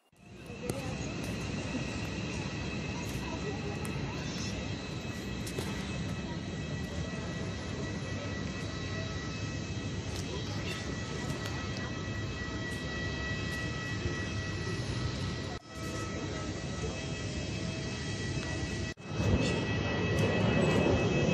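Steady, continuous broadband outdoor ambience outside an airport departure hall in Singapore, a constant roar of engines and traffic with a hum running underneath, holding loud and even throughout with a few brief dips near the end.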